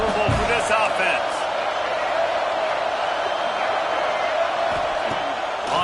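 Roaring stadium crowd at an American football game, a loud sustained wash of cheering and noise filling the whole stretch, with a play-by-play voice talking over it.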